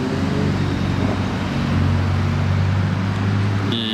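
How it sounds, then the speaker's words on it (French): A black Ferrari and a black Porsche Touring sweep past on a road, a loud steady engine roar and tire rumble filling the scene, the drone swelling as the cars go by. "Une Ferrari noire et une Porsche Touring noire."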